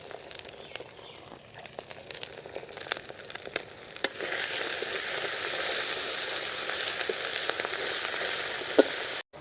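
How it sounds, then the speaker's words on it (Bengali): Spices sautéing in a pan for katla fish head mung dal, scattered crackles and scraping stirs at first, then a loud, steady close sizzle that cuts off at the end. "মশলাগুলোকে বেশ কিছুটা সময় ধরে কষিয়ে নিয়েছি"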